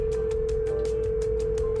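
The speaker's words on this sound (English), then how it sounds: "It's ringing." A telephone ringback tone during an outgoing call, a faint, steady electronic tone holding unbroken for its brief length.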